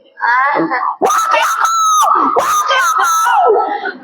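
A voice imitates a woman screaming in childbirth with loud, strained, wailing shrieks that rise and break over about four seconds, close to the microphone and harsh.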